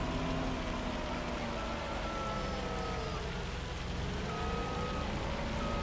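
Steady rainfall in the farming video game Farming Simulator 25, a constant dense hiss with faint tones drifting in the background.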